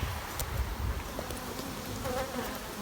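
Honey bees buzz around an open hive during a honey flow, a dense continuous drone of many wings close by with individual bees passing near, alone without talk.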